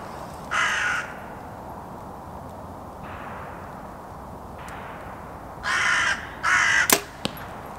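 Several loud, harsh crow caws ring out in separate bursts, a pair near the start and a tight cluster toward the end, over quiet outdoor background at a 3D archery range.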